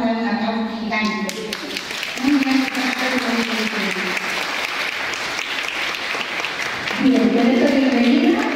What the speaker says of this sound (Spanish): Por supuesto, le vamos a dar un aplauso gigante.